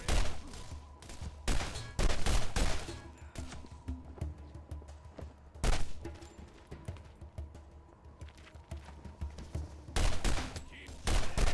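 Gunfire in the Borderlands video game, loud bursts and single shots clustered in irregular volleys across the span, with brief pauses between bursts.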